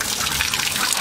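Water gushes steadily from a tap in a house, a close, loud, continuous rushing splash with no speech over it.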